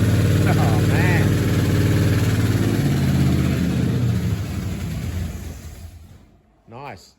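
A 1969 Ford XL GT convertible with a 429 V8 and four-speed, idling roughly on its first start, loud and near, not running on all eight cylinders, the rumble fading toward the end as a voice speaks briefly.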